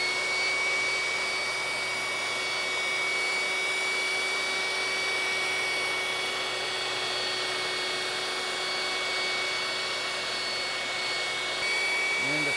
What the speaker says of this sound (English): I'm going to go ahead and turn my grinder speed up now.